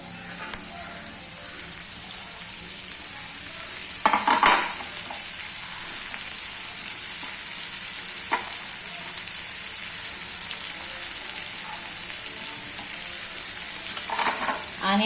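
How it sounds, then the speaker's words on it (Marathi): Onion and tomatoes fry in a pan with a dense, even sizzle like rain, close and steady for the whole stretch. Occasional spoon scrapes and clatters come through, and no speech is heard. "आता त्याच्यामध्ये ना हे टोमॅटो टाकून घेते मी."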